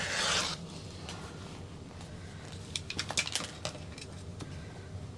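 A blade slices carefully through the fabric bottom panel of an apothecary bag, opening with a brief louder scraping swipe, then light scattered ticks and scratchy cuts, close and quiet with no talking.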